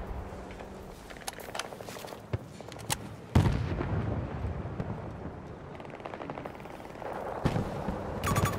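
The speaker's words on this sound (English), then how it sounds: "There's a shitload of gunfire." Rapid bursts of gunfire crackle in a busy Battlefield 2042 battle, sharp shots scattered over a steady rumble, with heavier volleys near the middle and end.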